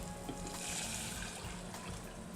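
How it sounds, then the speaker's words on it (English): Poaching liquid poured into a pan for cooking cod in tomato basil sauce, a steady soft trickle of liquid running for a couple of seconds. "Then we'll add our poaching liquid"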